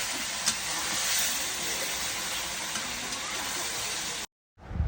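Ground cooking spices stirred into frying food, a loud steady sizzle with scraping under it for about four seconds, then a sudden cut to silence and a brief return.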